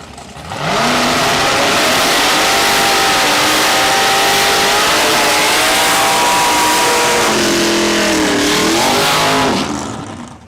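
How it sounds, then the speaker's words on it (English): Two drag racing cars, one a 1960s Chevrolet Camaro, do smoky burnouts at Saskatchewan International Raceway. Their engines hold a loud, continuous, rising-and-falling roar close by for about ten seconds, with pitch swings as the throttle is worked. "Big smoky burnouts for both of them there."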